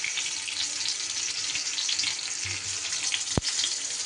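Pointed gourd fries in oil with a constant bright sizzle up close, broken by a few low clunks and one sharp knock near the end.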